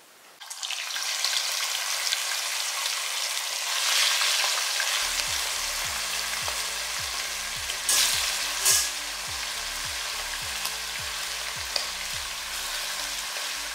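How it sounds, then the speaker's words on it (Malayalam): Marinated chicken drops into hot oil in a pressure cooker for biryani, setting off a steady bright sizzle and crackle that carries on alone, with a few louder pops and spatters partway through. "ഇവിടെ പുരട്ടി വെച്ചിരിക്കുന്ന മാരിനേറ്റ് ചെയ്ത് വെച്ചിരിക്കുന്ന ചിക്കൻ ഇതിനകത്തേക്ക് ഇടാം വറക്കാൻ വേണ്ടിയിട്ട്."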